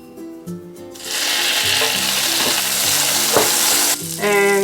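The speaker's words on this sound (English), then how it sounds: "Half of our butter goes in now." Butter hits a hot frying pan or griddle for zucchini pancakes and bursts into a loud, steady sizzle that holds for several seconds, with a few light clinks, close by and without talk.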